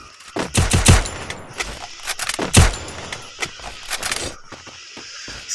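UMP submachine gun fire in a mobile shooter game, with several rapid bursts of close, sharp shots and short pauses between them.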